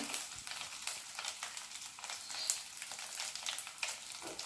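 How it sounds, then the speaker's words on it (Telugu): Small dry fish frying in oil until golden, a continuous crackling sizzle with bright spitting pops, close and steady. "ఆయిల్లో దోరగా వేయించుకోవాలి"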